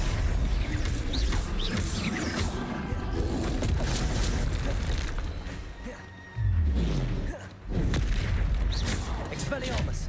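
A spell cast in a Hogwarts video game, a dense, continuous roar of booms, crashes and mechanical clatter with a sharp burst near the end, loud and close.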